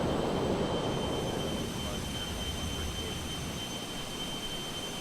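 Simulated Phenom 300 business jet engines in Microsoft Flight Simulator 2024 give a steady broadband rumble with a thin high whine, loud at first and easing slightly to a constant hum.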